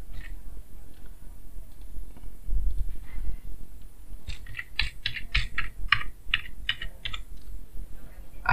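Email and password being typed on a computer keyboard, close up, quiet at first and then a quick burst of clustered key clicks in uneven rhythm, with no talk.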